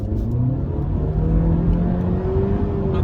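A 2018 Honda Civic VTEC Turbo GT with a CVT automatic accelerates hard onto a motorway; the engine drones steadily and rises smoothly in pitch under full throttle, loud and close from inside the cabin.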